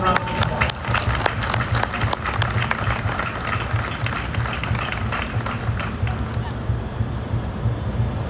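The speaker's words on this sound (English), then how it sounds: "Please give her a round of applause." A crowd at the Chicago Memorial Day Parade applauds the parade's grand marshal, a Marine Corps sergeant major. Dense clapping and cheers rise loudly, then gradually thin out.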